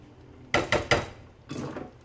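A spoon stirs boiling spaghetti mix in a pot: three quick clanks against the pot, then a longer scraping knock, close and clear, with no talk.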